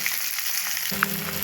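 Spices and cumin seeds fry in mustard oil in a kadai, a steady close sizzle that grows fuller partway through as more goes into the pan, with a single small pop.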